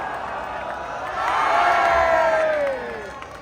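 A crowd of football fans in Wrexham cheers and applauds, a broad swell of voices and clapping that rises in the middle, with a long sliding whoop riding over it before easing back down.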